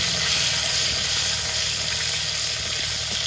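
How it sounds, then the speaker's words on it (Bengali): Chopped tomatoes fry in hot oil in a pan, giving a steady, loud, close sizzle and hiss throughout while they are stirred, with no voices. "এবার কেটে রাখা টমেটোটা দিয়ে দেবো। টমেটোটা দিয়ে দিয়েছি, একটু নেড়ে চেড়ে নেব।"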